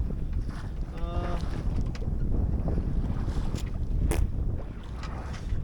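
Wind buffeting a sailboat at sea, steady loud rushing gusts over the microphone with boat and water noise underneath, plus a brief creaking or whistling tone early on.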